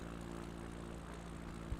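A propeller airplane's engine drones steadily in flight during a bush-flying leg over the Apennines from Bologna to Florence in a flight simulator, a constant low hum with harmonic tones and one brief low bump near the end.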